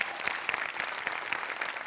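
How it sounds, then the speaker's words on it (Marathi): Audience applause for a performer on a comedy show, a fairly quiet, continuous patter of many hands clapping together. "श्याम्यासाठी एकदा टाळ्या वाजल्या पाहिजे."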